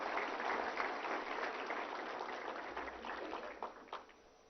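An audience at a Human Rights Day event in New Delhi breaks into sustained applause welcoming the Vice President of India, dense clapping from a large crowd that tapers toward the end.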